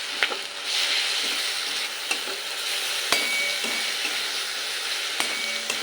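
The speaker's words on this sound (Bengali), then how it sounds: "পোস্তটাও দিয়ে পেঁয়াজের সাথে এক মিনিট কষাতে হবে" Poppy seed paste and onions being stir-fried in a pan, a steady close sizzle with scattered sharp pops and clicks of stirring throughout, no voices.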